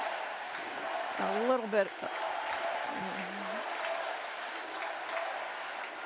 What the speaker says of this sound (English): this crowd is going a little wild over Marcus Luttrell